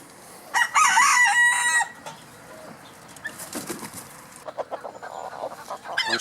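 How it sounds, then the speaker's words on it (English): A rooster in a backyard chicken flock lets out a loud, close, drawn-out crow, followed by scattered clucks, rustling and faint wing flaps from the fowl. "Oh, here's a rooster."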